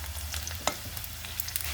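Chopped onion with whole cumin and bay leaves fries in a pan, giving a steady close sizzle throughout, broken by a few light clicks and scrapes of stirring.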